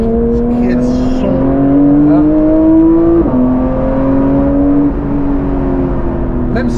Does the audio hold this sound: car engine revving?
yes